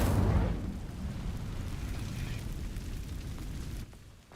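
An Incendio fire spell in Hogwarts Legacy igniting dry vines: a sharp whooshing burst at the start, then a sustained crackling, rushing flame that fades out abruptly near the end.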